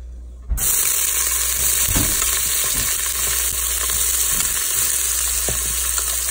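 Onions and chili sizzle loudly in an Instant Pot for a soup, a steady close frying hiss starting abruptly and continuing throughout with occasional stirring clatter.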